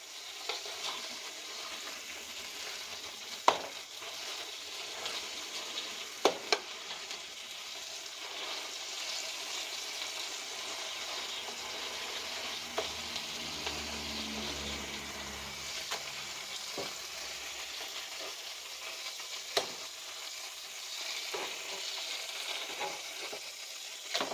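A hamburger patty frying in a pan gives a steady, even sizzle with faint crackles and a few sharp clicks and knocks from handling the pan, all without talk.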